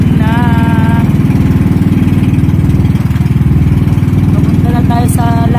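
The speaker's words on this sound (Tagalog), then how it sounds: "Medyo maingay yung bangka." A loud, close bangka outrigger boat engine chugs steadily in a fast rhythm, droning throughout with a faint higher whine briefly at the start and end.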